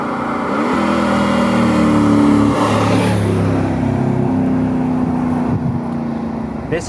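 A 2017 Mercedes G63 AMG pulls uphill in fourth gear at about 30 mph on half throttle, heard loud from inside as a deep rising engine drone with gear-like tonal steps.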